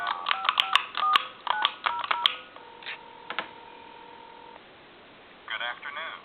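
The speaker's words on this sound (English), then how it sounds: "I'm going to dial a time and temp number." DTMF tones from a telephone switched onto a regular line dialing a time-and-temperature number, heard as a quick run of sharp, loud keypad beeps, a steady tone held for a couple of seconds, then a second short cluster of tones near the end.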